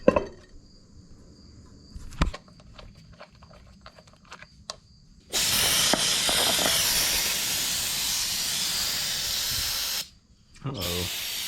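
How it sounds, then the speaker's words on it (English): Aerosol can of brake cleaner spraying in an engine bay, a steady loud hiss lasting about five seconds, a brief pause, then another short burst, after some quieter clicks and handling noises. "I better not have ran out of brake cleaner right now"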